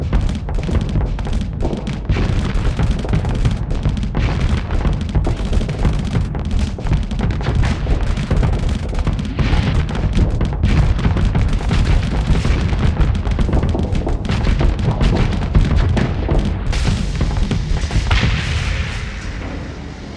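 Starship weapons in the Starsector space combat game fire in a dense, continuous barrage of booming shots, thuds and explosions, loud and unbroken throughout.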